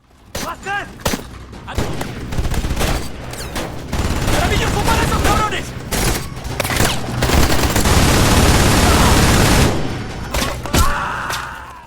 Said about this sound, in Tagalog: habang mas lumala ang putukan